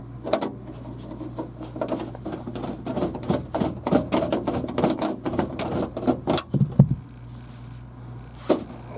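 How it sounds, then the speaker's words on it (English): A Phillips screwdriver loosening the cover screw on a Dell XPS 8300 desktop, heard as a steady run of close, rapid clicking and scraping ticks over a low constant hum, with a few louder knocks near the end. "unscrew this screw here"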